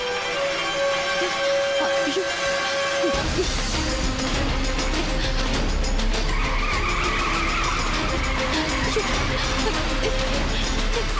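A car skidding as its brakes fail, with a loud sustained rush of tire and engine noise that surges in abruptly and continues to the end, while people shout over it.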